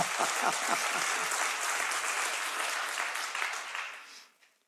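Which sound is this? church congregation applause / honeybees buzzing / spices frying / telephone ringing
church congregation applause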